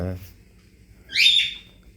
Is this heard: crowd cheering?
no